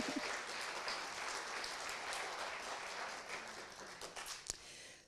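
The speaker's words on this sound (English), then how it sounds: "let's give them a round of applause" Church congregation at a Sunday service applauding new members, a steady, dense wash of clapping from many hands that holds for several seconds before tapering slightly.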